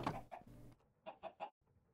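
Chickens in Minecraft cluck in short bursts, a cluster of quick clucks followed by three separate clipped clucks, quiet and close with brief silences between.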